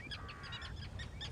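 Common terns at a nesting colony on the Atlantic coast give repeated harsh, grating calls, several birds overlapping in quick bursts, faint and at some distance.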